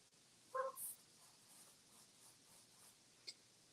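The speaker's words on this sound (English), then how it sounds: "my dog just decided to bark" A dog gives a single short bark somewhere in the room, brief and fairly faint, over quiet background hiss during an acrylic painting session.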